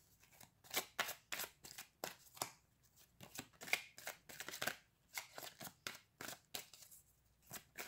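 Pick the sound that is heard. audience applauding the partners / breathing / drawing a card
drawing a card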